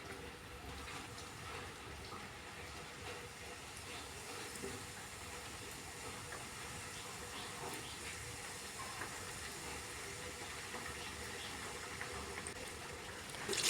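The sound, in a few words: sweet khaja dough frying in hot oil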